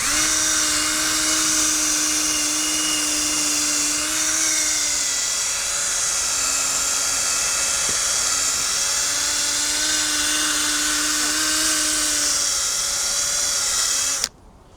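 A power drill with a polishing pad buffs the headlights of a Jaguar X-Type, giving a loud, steady high-pitched whine that runs nearly unbroken with slight pitch dips before cutting off at the end.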